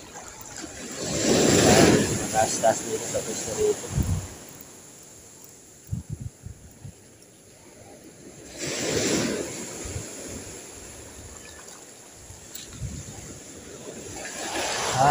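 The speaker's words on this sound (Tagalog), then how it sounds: "Isang malakas ng salpak doon ng alon." Strong monsoon wind drives ocean waves against a fishing spot on the shore, with two loud surges a few seconds apart and wind rumble between them, while someone speaks briefly.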